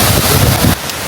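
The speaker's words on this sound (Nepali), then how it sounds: "वहाँ माथिबाट आएको झर्ना हो यो" Waterfall in Japan pouring down from above into a cold forest pool, a loud, steady broadband rush of falling water that drops abruptly to a quieter wash partway through.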